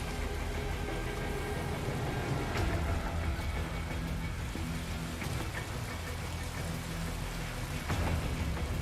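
Steady rain pattering on surfaces, a dense continuous hiss with a low rumble underneath and a few sharper knocks scattered through.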